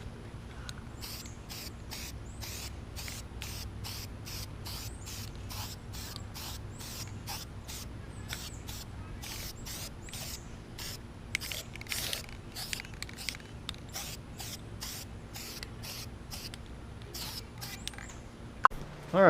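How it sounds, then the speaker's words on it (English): Spray paint hisses in a long run of short, regular bursts, coat after coat on small parts from a 5.7 small-block Chevy engine for a 1980 second-gen Camaro, steady and close with no talk. "Now let's go and lay some paint."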